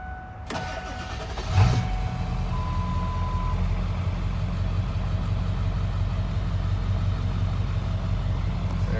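A 2001 Ford Excursion 7.3L Power Stroke diesel, lifted on 35s, cranks briefly and catches, then settles into a steady, loud, close diesel idle clatter with no talking.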